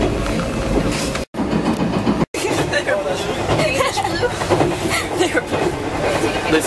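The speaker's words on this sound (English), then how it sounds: "This is a subway, guys." A subway train rumbles and rattles through the station with a steady, loud clatter of rail cars, two brief dropouts breaking the noise and a faint murmur of crowd chatter underneath.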